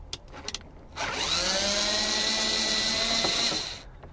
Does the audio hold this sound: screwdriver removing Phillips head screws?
yes